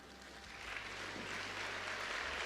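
Audience applause at a Filipino sermon gathering, a faint, steady wash of clapping that builds slightly and holds throughout.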